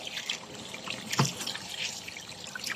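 Tap water trickles and splashes steadily as fish is rinsed outdoors before being cooked as paksiw, with a brief louder splash midway.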